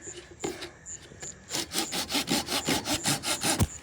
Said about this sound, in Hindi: लेकिन हमारी आरी ये जो है ना ये भी काम कर रही है। आधा कट गया, आधा काटना मुश्किल हो रहा है।